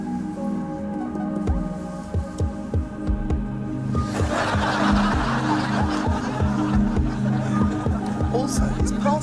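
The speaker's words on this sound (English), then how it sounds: "His heartbeat's weird too. Instead of a normal heartbeat, his sounds cooler." Unusual heartbeat sound from the TV show Red Dwarf, a regular series of low thumping beats running throughout, with a musical hum and light chuckling over the second half.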